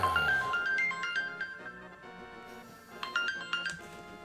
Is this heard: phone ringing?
yes